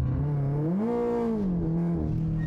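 A drift car's engine held at full throttle, a steady harmonic drone that climbs in pitch, dips and levels off again, loud and close, with no talk over it.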